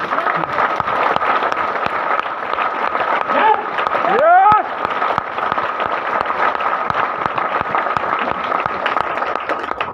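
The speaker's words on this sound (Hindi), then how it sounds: "एक बार अपने लिए तालियां बजा ले जोरदार" Loud audience applause at a motivational business talk, dense clapping sustained throughout with crowd noise and a brief whistle-like sweep partway through.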